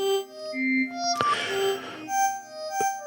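Step sequencer notes playing synth tones in Bitwig Studio in an ambient jam, sustained pitched tones shifting between notes with a brief noisy burst in the middle and a sharp click near the end, no talk.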